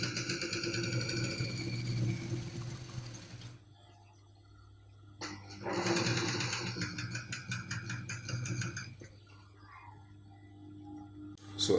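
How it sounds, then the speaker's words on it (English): Sewing machine stitching a back pocket onto a pair of trousers, running in two steady, close bursts with a short quiet gap between them. "Then I'm going to stitch it straight."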